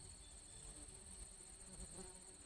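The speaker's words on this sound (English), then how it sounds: "And I got them buzzing in my face and around my ears and stuff, and not one sting." Yellowjackets and wasps feeding buzz close around a person's face and ears, a steady, thin insect drone that holds without a break, fairly faint and with no talking.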